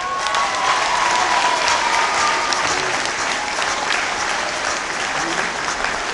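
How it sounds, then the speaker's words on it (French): Steady, dense applause from a crowd giving an ovation for Romain Édouard at a prize ceremony in Grand Bornand, loud and sustained throughout. "vous pouvez lui aussi lui faire une ovation"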